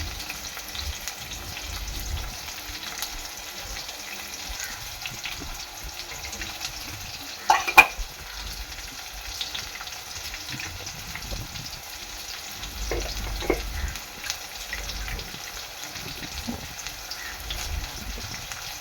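Onions frying in oil inside an open pressure cooker, a low steady sizzle running throughout, broken by occasional clacks and scraping of a spoon stirring, quiet and close.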